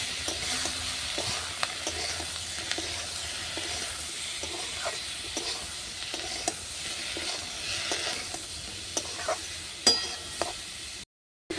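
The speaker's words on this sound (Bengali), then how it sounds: "পরিমাণ মতো লঙ্কা গুঁড়ো এবার দেবো ডাঁঠাগুলো ভালো করে একটু কষ্ট নেবো" Vegetable stalks tossed with turmeric and chili powder are stir-fried in a pan over a clay stove, a steady close sizzle broken by repeated scraping spatula strokes, ending with a brief cutoff.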